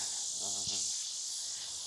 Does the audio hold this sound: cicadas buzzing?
yes